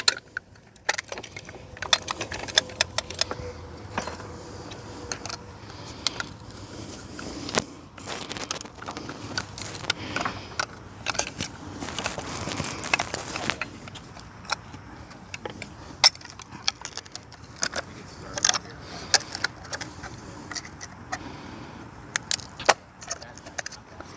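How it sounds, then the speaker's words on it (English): A metal bolt and nut are reassembled on a KC1511HT stuck in the field. Close, irregular metallic clinks and jangles come in short bursts, with soft handling noises between them. "So now we're going to reassemble. Got the bolt, got the nut."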